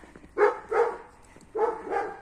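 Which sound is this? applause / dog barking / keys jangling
dog barking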